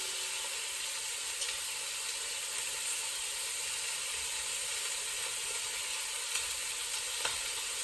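Beef pieces searing in a hot pot for beef stew, a continuous bright sizzle and hiss with faint occasional crackles, steady and close with no talking.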